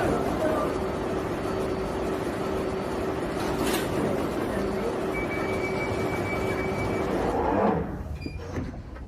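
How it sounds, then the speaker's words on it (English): An underground train idles at a London station platform with a steady mechanical hum and rail noise. A recorded announcement voice plays over it, and near the end the doors slide and the noise drops away. "Mind the gap between the train and the platform."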